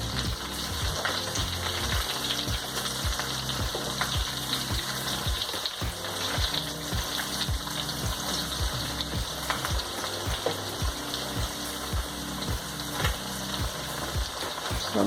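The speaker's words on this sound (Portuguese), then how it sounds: "Vou deixar fritar uns 3, 4 minutos de cada lado." Pumpkin slices breaded in farofa frying in hot oil, a steady close crackling sizzle that holds without a break, with a faint regular mechanical ticking underneath.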